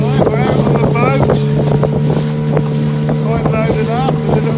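A small 10 horsepower outboard motor drives a loaded boat across bumpy Ullswater lake, a loud steady engine drone close by with constant wind buffeting the microphone and splashing water.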